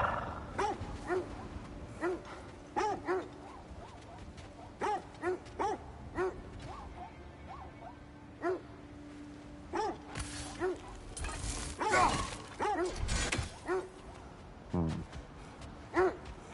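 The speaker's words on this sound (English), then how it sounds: "Shut up, dogs." Dogs bark in repeated short, sharp bursts spaced irregularly across a long stretch, mid-distance and fairly loud, mixed with creaking mechanical noises and a louder clattering patch near the middle.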